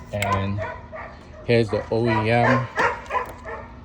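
A dog barks in short repeated yaps and whimpers close by, mixed in with someone talking over it.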